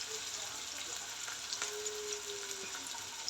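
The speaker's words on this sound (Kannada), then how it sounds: "2 ಒಟ್ಟಿಗೆ ಫ್ರೈ ಮಾಡ್ತೀನಿ ನಾನು" Green chillies fry in a pan for egg curry, a faint, quiet sizzle with a few light clicks of a utensil against the pan, heard close with no talk.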